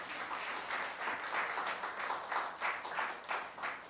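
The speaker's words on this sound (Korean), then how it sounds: "이 스태프분들이 박수 한번 쳐주세요" A crowd applauds for the staff at an autumn evening outdoor gathering, steady clapping that keeps going for several seconds at moderate volume, with no one speaking over it.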